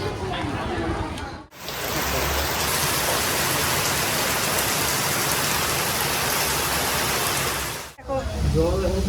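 Heavy rain falling: a loud, dense, even wash of drops lasting about six seconds, with short breaks at the start and end where other faint sounds come through.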